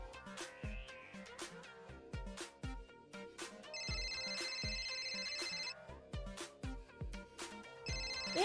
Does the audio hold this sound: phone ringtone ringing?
yes